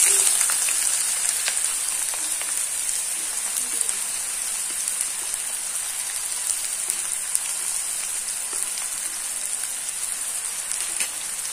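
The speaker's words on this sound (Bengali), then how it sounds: "পেঁয়াজটা আমাদের হালকা বাদামি কালার করে ভেজে নিতে হবে।" Two chopped onions fry in a hot pan as the first step of a pepuli shak recipe, a steady dense sizzle with no pauses, close and even throughout with no one speaking.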